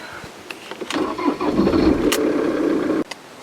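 A car engine cranks and catches near a workshop by a château, then settles into a steady mid-pitched run for a couple of seconds before cutting off abruptly, with no talk.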